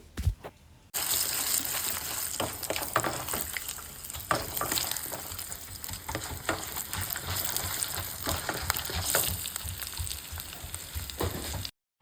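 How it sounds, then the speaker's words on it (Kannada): Mustard seeds, cumin, peanuts and chana dal frying in hot oil, a loud bubbling sizzle with crackling pops that starts abruptly after a quiet second and cuts off at the end, close up and without talk. "ಸ್ವಲ್ಪ ಕಡಲೆ ಬೇಳೆನ ಹಾಕಿ ಚೆನ್ನಾಗಿ ಫ್ರೈ ಮಾಡಿ"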